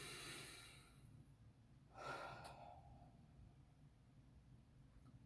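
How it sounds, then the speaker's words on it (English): A person breathes at close range, a soft inhale followed by one clear exhaled breath, quiet and alone against a faint background hiss. "Then I take a breath. Exhale."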